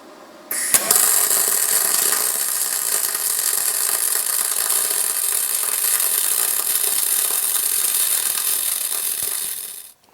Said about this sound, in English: I'm just gonna run right over the top of it. Let's see how well it will weld.